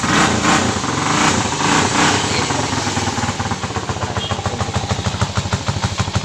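A Rusi 150 motorcycle engine with a reverse gear runs on test after a rebuild. It gives a loud continuous drone that turns into a fast, even mechanical chugging once the gear engages, with no talking.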